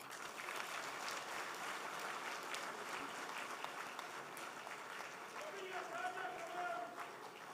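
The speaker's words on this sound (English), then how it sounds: "another round of applause for our chairman of the occasion" Sustained audience applause fills a hall at a live celebration event at Manhyia, a steady dense clatter of many hands at moderate distance, continuing evenly without a break.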